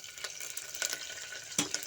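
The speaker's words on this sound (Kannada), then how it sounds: "ಪಲಾವ್ ಎಲೆ, ಈರುಳ್ಳಿ ಮತ್ತು ಕರಿಬೇವನ್ನ ಒಗ್ಗರಣೆ ಹಾಕ್ಕೊಳ್ತಾ ಇದ್ದೀನಿ" Bay leaf, onion and curry leaves sizzle faintly in hot oil in a pressure cooker on a gas stove, a soft steady crackle with a few brief stirring scrapes.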